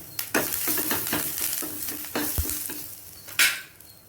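Curry leaves being sautéed in a pan for bone rasam, with a spoon stirring and scraping in quick strokes over a steady close sizzle, a few sharper clanks of utensil on metal.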